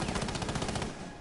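Rapid automatic gunfire in a competitive shooter video game, a dense burst of repeated shots for about a second before cutting off.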